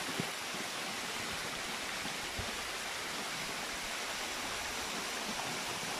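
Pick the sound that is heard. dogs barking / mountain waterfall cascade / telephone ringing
mountain waterfall cascade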